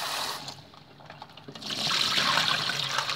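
Eggshells rinsed under a running kitchen tap, a steady close splash of water that swells louder and fuller partway through.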